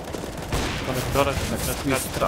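Rapid gunfire from the Counter-Strike map Mirage during a 5v5 tournament match, dense bursts of shots under an excited commentator's fast speech.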